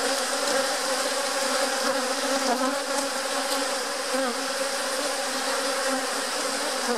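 Honeybees swarm and buzz around an opened hive being split, with one box lifted off the deep below: a dense, steady drone of many wings, close and continuous, with no talking.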